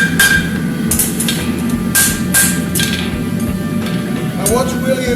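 A farrier hammers a horseshoe around the anvil horn, working flow into the inside of the toe; sharp metallic strikes ring out every half second or so over a steady background hum, with some speech.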